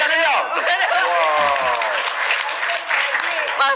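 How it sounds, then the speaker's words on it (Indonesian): Audience applause at a talk show fills the whole stretch as steady, dense clapping, with voices talking and laughing over it. "Tepuk tangan dong."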